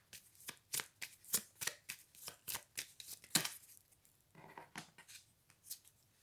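Guidance cards shuffled by hand at close range, a quick run of crisp papery riffles and snaps in an uneven rhythm, with a short softer rustle partway through and no talk.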